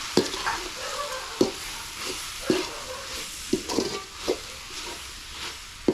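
A spoon stirs masala of chili powder, coriander powder, garam masala and turmeric frying in a pan, scraping in sharp strokes about once a second over a continuous soft sizzle, close up.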